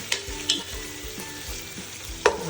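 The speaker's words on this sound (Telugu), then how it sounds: "కొంచెం పసుపు వేసుకొని బాగా కలుపుకోవాలి" Coriander, mint and turmeric are stirred with garlic paste in a hot pan, sizzling steadily while a spoon scrapes and clacks against the metal several times, close by and with no voices.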